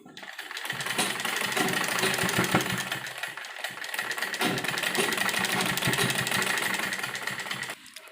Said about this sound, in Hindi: फिर इसमें भी हम डबल सिलाई लगाएंगे।